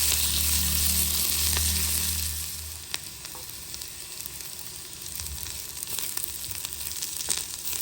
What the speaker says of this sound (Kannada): ಇವಾಗ ಎಲ್ಲವನ್ನು ಚೆನ್ನಾಗಿ ಹುರ್ಕೋಬೇಕು